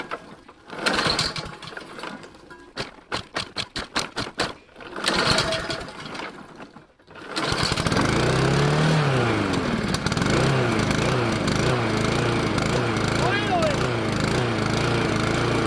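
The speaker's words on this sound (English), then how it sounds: "It's getting harder and harder to start this lawnmower." A lawn mower's small engine, increasingly hard to start, sputters with repeated pull-start attempts, then catches and runs loudly and steadily, its pitch wavering as it revs; a voice briefly speaks.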